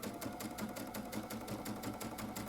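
A Baby Lock Altair sewing machine fitted with a gathering foot runs steadily at high speed with long stitch length and raised upper tension, giving a fast, even mechanical whir and rhythmic needle chatter, close and continuous, with no voice.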